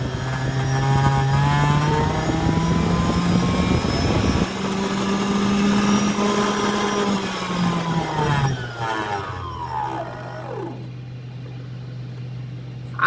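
A single 1400 kV motor on a large robot saucer spins with a steady, loud whine and strong harmonic tone that slides in pitch around eight seconds, then spools down, leaving a lower, quieter hum near the end.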